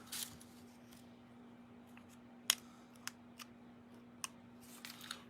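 Scissors snip paper streamers in a quiet room, a handful of crisp separate cuts spaced irregularly over a faint steady hum.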